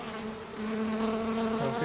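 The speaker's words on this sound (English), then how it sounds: "So there's one bee." Honey bees buzzing steadily during a bee removal from a makeshift shed beside a cinder block wall, a dense close drone with rising and falling pitch and no talk.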